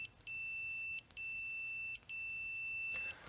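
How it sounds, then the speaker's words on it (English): A multimeter's continuity tester signals a short circuit with a steady, high-pitched electronic beep, repeated in three long tones with short breaks between them and no voices. "it will just beep if you have a short circuit"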